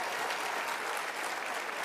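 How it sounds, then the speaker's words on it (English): Steady applause from a convention crowd at a political event, dense and continuous clapping filling the room for a couple of seconds with no speech on top. "Please give them a round of applause"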